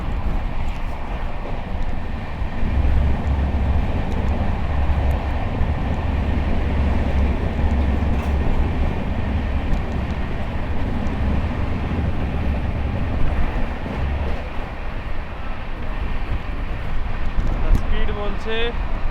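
Gurumukhi Superfast Express running at about 130 km/h between Asansol and Kolkata, heard from inside as a loud continuous rumble and roar with rattling carriages throughout, under occasional talk.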